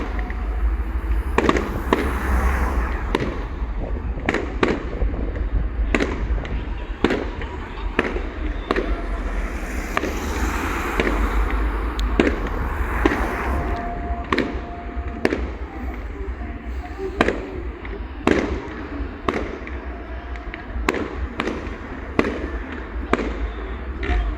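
A town fireworks display in Rhyl: a near, continuous barrage of sharp bangs and crackling bursts at irregular intervals, with a crowd and voices talking faintly underneath.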